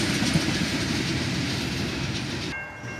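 A freight train rolls past in the rain, a loud, close rumble of wheels and clatter that cuts off abruptly near the end, leaving a quieter hiss.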